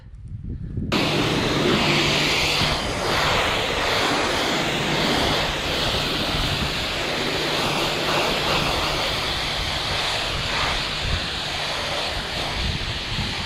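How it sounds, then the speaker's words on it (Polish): A water spray blasts dust off the top of a farm harvest trailer, starting abruptly and then running as a loud, steady, broadband hiss close by for the rest of the clip, with no speech. "Zra zrasimy sobie ten cały kurz z góry"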